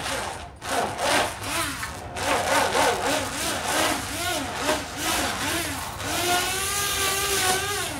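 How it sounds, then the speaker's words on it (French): A hand blender whirs through a goat cheese sauce, emulsifying it until smooth. The motor's pitch wavers and surges steadily for several seconds, close and fairly loud. "Et je vais la mixer un petit coup pour qu'elle soit bien fluide."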